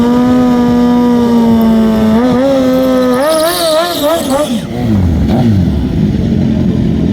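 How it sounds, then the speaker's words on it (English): Drag racing motorcycles, including a Yamaha R1, at Perth Motorplex, their engines droning steadily then revving up and down in rising and falling sweeps, loud and close, with announcer talk underneath. "Super Dave on the Jigsaw going up against Wonder Woman on the R1"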